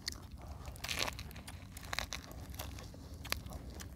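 Biting and crunching into crispy deep-fried elephant ear fish, with several sharp, close crunches and chewing crackles spaced irregularly over a quiet background.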